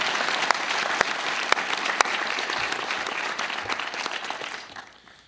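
An audience at a university board session applauds steadily for a few seconds, a thick wash of clapping with a few sharp claps standing out, tapering off at the end.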